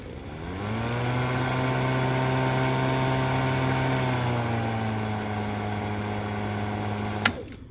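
A Greenworks 40V 16-inch battery lawn mower starts up with a rising electric whine, then runs at a steady, smooth hum for several seconds before ending with a sharp click. No one speaks.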